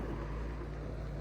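A Haybuster tub grinder engine idles steadily while warming up outdoors, a continuous low rumble with no break, fairly quiet and heard alone.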